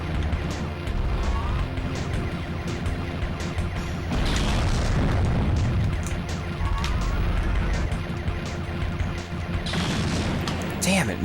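Missile explosions and blasts in the Sega Saturn shooter Solar Eclipse, with repeated booming hits over a constant roar of game sound and a bigger crash in the middle. A voice talks over parts of it.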